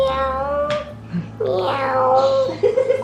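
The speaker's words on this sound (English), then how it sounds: "Quiet little kitty." A cat meows several times, drawn-out and plaintive, close by in a kitchen, the cries overlapping with faint background voices and household noise.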